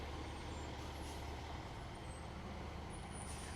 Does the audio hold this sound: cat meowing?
no